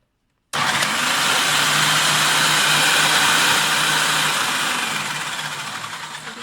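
Imarflex IFP-500S food processor switching on at speed 2, a loud steady motor whir with a constant hum that starts abruptly and slowly eases off toward the end, heard alone.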